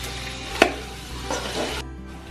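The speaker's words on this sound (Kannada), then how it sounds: "ಸ್ವಲ್ಪ ಇದರಲ್ಲೂ ಫ್ರೈ ಮಾಡಬೇಕು." Hariyali chicken frying in a pan, a steady close sizzle with a sharp clink of a utensil against the pan early on and soft stirring scrapes after.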